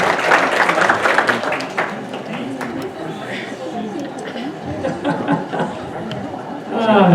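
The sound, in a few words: audience applause after a meal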